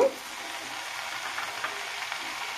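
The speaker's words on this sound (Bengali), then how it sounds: "এখনই শাকগুলো দিয়ে দিলাম, দিয়ে কিছু সময় ধরে কষাবো।" Note shak leafy greens sauté in a pan with a steady, soft frying sizzle and faint stirring, close and continuous, with a brief clink at the start and no talking.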